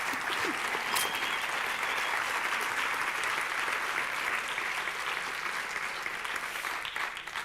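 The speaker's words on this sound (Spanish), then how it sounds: "Un aplauso para Paloma." An audience at a women's visibility event applauds Paloma del Río with steady, dense clapping from many hands that holds at an even level throughout and fades slightly at the end.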